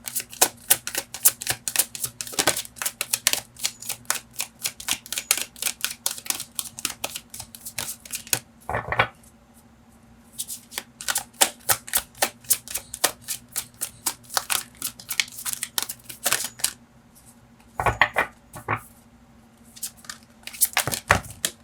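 Tarot cards are shuffled in rapid, crisp riffling bursts, close and loud, with brief pauses between rounds.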